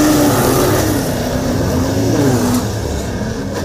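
A field of race cars gets underway from the start, with loud, continuous engine roar and rising revs from several cars close by.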